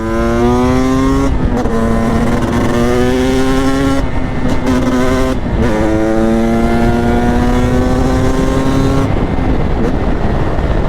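A Husqvarna 300 TE supermoto motorcycle's two-stroke engine screams loud and close while riding through a corner, with pitch climbing and dropping through several quick gear changes and throttle blips.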